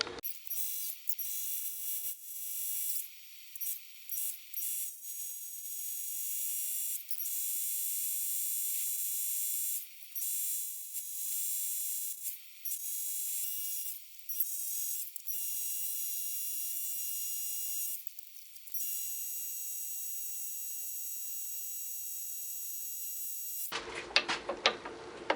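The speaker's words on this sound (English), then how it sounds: "I'm going to stick this in the lathe and get this turned down, bore a hole out" An antique Logan lathe turns down and bores a pulley, giving a steady high whine and mechanical hum with irregular cutting chatter that runs close and alone for most of the stretch before stopping abruptly near the end.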